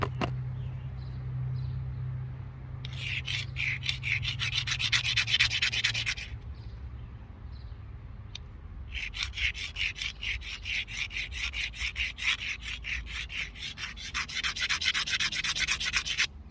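A primitive stone chisel is rubbed against a rock to sharpen it, giving two long runs of rapid, rhythmic gritty scraping strokes, close and fairly loud, separated by a short pause with no talking.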